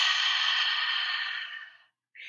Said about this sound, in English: Let's take a big deep breath in.